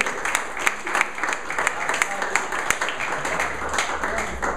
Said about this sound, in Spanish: Un aplauso para Paula